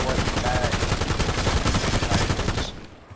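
Rapid, dense bursts of max pack-a-punch ray gun fire in Black Ops 7 Zombies, a loud continuous volley lasting under three seconds before cutting off abruptly into quiet.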